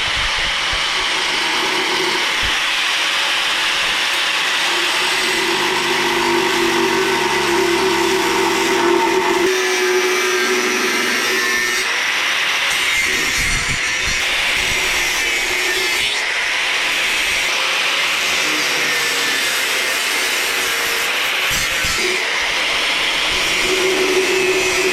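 Grinder dressing back a weld on a fuel tank neck, a loud continuous high whine running throughout with small shifts in pitch as it bites into the metal, no talk.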